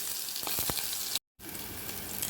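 Ginger-garlic paste drops into hot oil already tempered with four cloves, peppercorns and a piece of cinnamon, setting off a steady, bright sizzle that cuts out for a moment, then resumes evenly.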